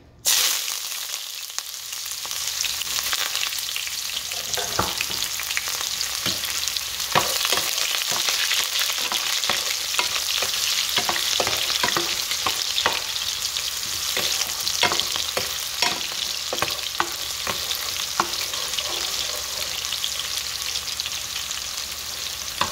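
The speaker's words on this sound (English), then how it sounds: "after my onion is in there, I'm just sauteing it a bit" Chopped onion sautéing in a frying pan, a continuous loud sizzle with scattered crackles and occasional stirring clicks throughout, no voices.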